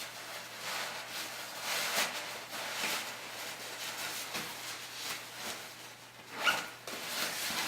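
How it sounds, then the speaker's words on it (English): A Kuiu Super Down insulated vest is unzipped, with a series of quick, close zipper rasps repeating in short strokes, quiet and without speech. "unzip it."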